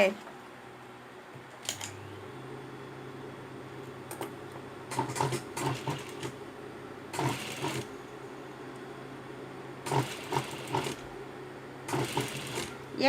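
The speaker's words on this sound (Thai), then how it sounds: "แล้วเราก็เย็บไป" A sewing machine stitches the folded binding on a T-shirt neckline in several short, quiet bursts of rapid clatter, with someone talking softly between them.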